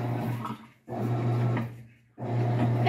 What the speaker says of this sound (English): So here is how noisy it is without an agitator.